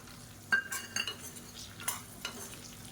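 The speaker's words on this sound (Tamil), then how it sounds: "இப்போ இந்த எண்ணெயிலே நல்லா வதக்கி விட்டுக்கலாம்." Spices are stirred and sautéed in hot oil in a pan for brinjal kulambu, with a faint sizzle beneath uneven scraping spoon strokes, quiet and close.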